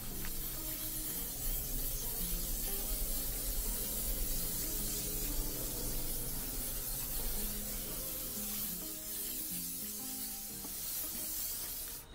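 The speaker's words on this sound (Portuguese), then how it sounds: "O verniz de motor da Avonix de spray." A steady, continuous aerosol spray of engine varnish hisses close by for the whole stretch, broad and airy without pause.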